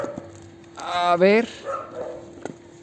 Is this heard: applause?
no